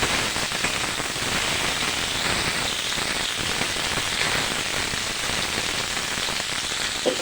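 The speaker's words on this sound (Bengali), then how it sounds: "মটরশুঁটি, টমেটো দিয়ে লবণ হলুদ দিয়েছি, আর একটু ভেজে নেব।" Cut radish, potato, cauliflower, peas and tomato with salt and turmeric sizzle in hot oil with five-spice and a dried chilli for khichuri, a dense, close, continuous crackling hiss with no talk.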